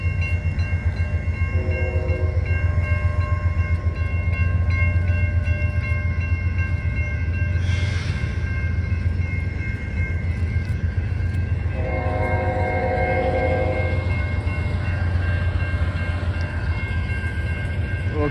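A train rumbles steadily past at close range at Emmons Blvd, with a low continuous roar, a brief horn blast partway through, and sustained tonal hums throughout.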